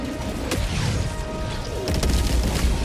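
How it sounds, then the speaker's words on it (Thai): An explosion goes off in the video game Helldivers 2 as a sharp booming blast, followed moments later by a second burst of crashing impacts over a rumbling in-game background. "ระเบิดไปซะ"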